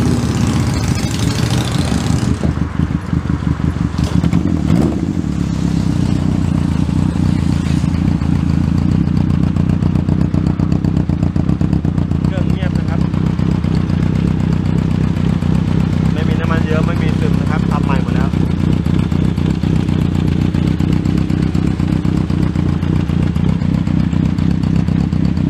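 A rebuilt Honda CB750F motorcycle engine with new pistons, rings and cylinder block runs close by at a steady, loud, low idle after a brief rev at the start, while someone talks over it.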